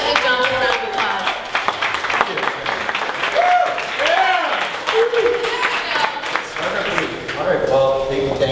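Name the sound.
audience standing ovation applause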